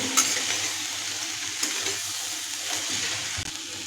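Spiced sweet corn is stirred in a pan over a low flame, a steady soft sizzle with faint scraping of the spoon running throughout, close and even.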